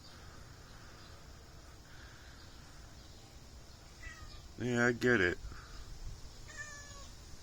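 A cat meows briefly, two short close calls, with a fainter meow following, over a quiet background; a person speaks softly nearby.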